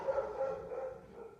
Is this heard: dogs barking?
yes